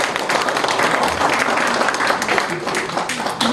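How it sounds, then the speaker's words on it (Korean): Participants at the opening of a Gwangju party-invited debate forum applaud, producing a dense, steady wash of clapping throughout that carries on evenly at full strength. "토론회를 참석자들의 힘찬 박수로 시작하도록 하겠습니다."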